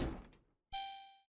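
A door opens in the action game Katana Zero: a soft thunk fades out, then after a short gap a brighter, ringing tone follows, quiet and alone.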